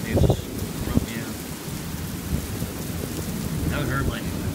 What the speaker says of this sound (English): It's like a rumbling.